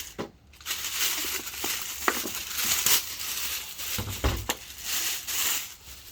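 Packaging crinkling and crushing while a 12-volt 100Ah lithium LiFePO4 deep-cycle battery is unboxed, with close, continuous rustling, scattered sharper crackles and a few dull thumps.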